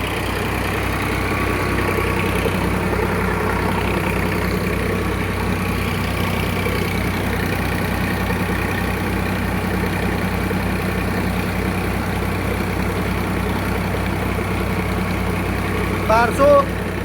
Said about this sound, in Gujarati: બારસો આરપીએમ ઉપર ચાલે છે ટ્રેક્ટર.